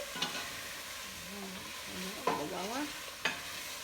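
A spoon stirs ginger chicken and rice soup in a pot, giving soft scraping and a few clinks against the pot over a low bubbling background, close and fairly quiet.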